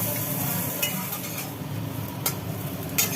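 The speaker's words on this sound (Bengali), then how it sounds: "আলু উচ্ছে ভাজার কাজ চলছে চলুক" Potatoes and bitter gourd fry in a pan with a steady close sizzle, punctuated by occasional sharp scrapes and clinks of stirring.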